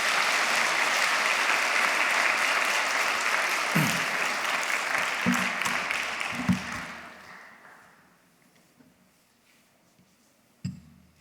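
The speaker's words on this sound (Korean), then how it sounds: "우리 목사님 말씀 전해주실 때 감사한 마음으로 큰 박수로 환영하도록 하겠습니다" Big congregational applause welcoming the pastor at a church revival service, loud and dense for several seconds before tapering off into near silence with a few scattered claps and a faint voice.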